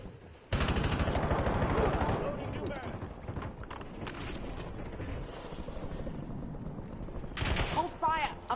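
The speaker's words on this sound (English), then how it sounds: "Hey Fox, can you stop shooting at me" Gunfire in a shooter video game: loud bursts of automatic weapon fire and scattered shots crackle through a busy battle mix, with game radio voices and a player talking over much of it.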